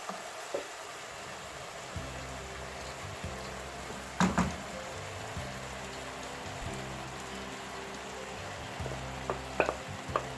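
Rice is tipped into a hot pan of chicken and vegetables and stir-fried, a steady soft sizzle broken by a few scraping clatters of the utensil against the pan.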